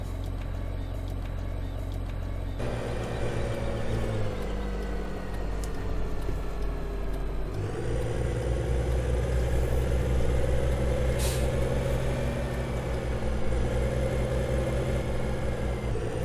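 A baler running behind a tractor in Farming Simulator 2015, heard as a steady loud mechanical drone and low engine rumble that shifts pitch a couple of times, with a brief hiss partway through.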